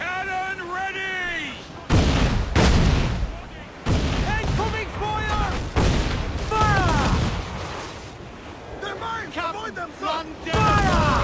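Heavy cannon blasts boom repeatedly amid game sounds in Assassin's Creed IV: Black Flag, with voices shouting over the barrage and music tones rising and falling throughout.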